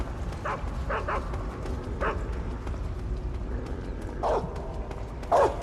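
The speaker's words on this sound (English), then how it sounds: "Oh, hi, dog." Dogs in Metal Gear Solid 3 give a few scattered short barks and yips over steady game background noise, moderately loud.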